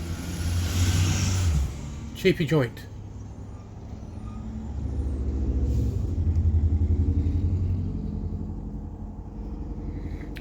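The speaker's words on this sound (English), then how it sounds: "Here comes another bus. It's a Bluebird." A Blue Bird school bus leaving a tournament location drives past on a residential street, its engine rumble building and fading with a short sharp hiss. Someone speaks briefly over it.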